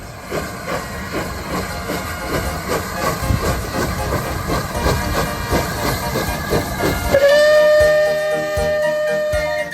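The steam locomotive Flying Scotsman chuffs rhythmically with loud hissing steam, then gives a sustained whistle blast near the end.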